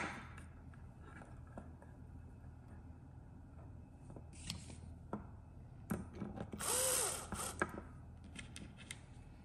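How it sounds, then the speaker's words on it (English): A cordless drill drives a screw into a pinball machine in short pulsed bursts rather than one long run, a few brief whirring spurts amid quiet workshop handling noises, close and without speech. "I just kind of pulse this cordless. I don't like really drive it in"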